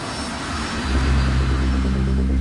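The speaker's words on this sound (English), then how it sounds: "the data recorder reveals that Van Zanten has already begun to accelerate" The engines of a KLM jumbo jet spool up for takeoff as a loud, steady roar and deep rumble that swells partway through, with no voices.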